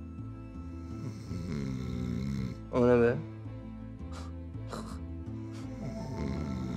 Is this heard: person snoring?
yes